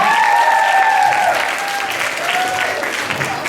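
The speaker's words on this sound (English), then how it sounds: "Big round of applause for the PE team, though." An audience at a school staff talent show gives loud, sustained applause for the PE team's act. Cheering and whooping rise above the clapping throughout.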